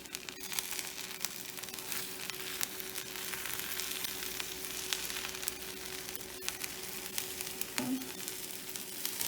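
An egg omelet cooks in a frying pan during a kids' cooking lesson, giving a steady, close sizzle throughout with one brief scrape of a utensil near the end.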